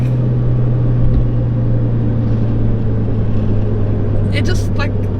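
An R56 Mini Cooper S with a 1.6-liter engine accelerates hard in second gear, a steady droning engine note heard from inside the car with a brief rattle near the end.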